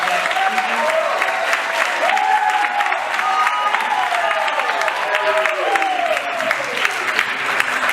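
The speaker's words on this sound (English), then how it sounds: "Please give our debaters one more big round of applause" Audience applause for the debaters at the close of a debate night: a dense, steady clapping crowd that holds for the whole stretch, with raised voices and cheers ringing through it.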